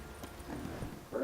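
A few soft hoof clops of a horse walking in the video game The Witcher 3, faint and close, over a low steady background.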